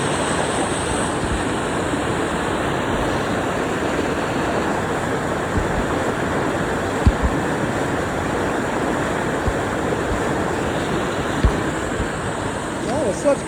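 Water pouring steadily over the Rugg Pond spillway in Kalkaska, Michigan, a continuous broadband rush close to the microphone with wind buffeting and a few faint thumps.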